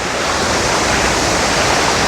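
Floodwater after Hurricane Melissa rushes over a road in West Portland, Jamaica, producing a loud, constant roaring torrent that stays close and unbroken throughout, with no talking.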